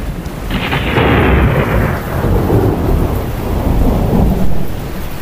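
A typhoon storm in a Filipino animation: heavy rain roars steadily throughout while loud, rolling thunder rumbles and cracks nearby, with no voices.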